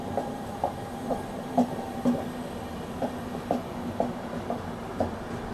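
Pune Duronto express arriving on a parallel track, heard from aboard the Indore Daund Express: faint, steady rumble with regular clickety-clack wheel beats repeating about every half second.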